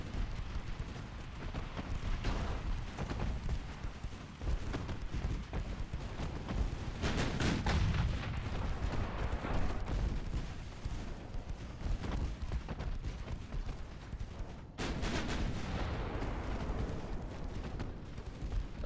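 Warship gunfire in the naval game Ultimate Admiral Dreadnoughts, a sustained barrage of booms and rumbling blasts over a loud continuous battle roar, with a brief dip before the firing resumes, and no talking.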